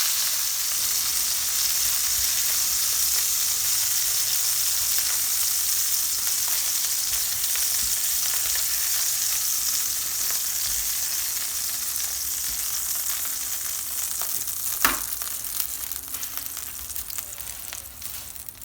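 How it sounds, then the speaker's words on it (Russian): Ćevapčići meat sausages frying in a hot pan, giving a continuous loud sizzle and crackle that holds steady for many seconds, with a single sharper pop partway through. "Жарить 5-7 минут, не больше"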